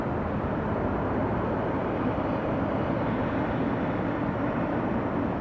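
A Delta airliner taking off from Atlanta's Hartsfield-Jackson airport, its engines a steady, broad roar that holds at an even level throughout with no talk over it.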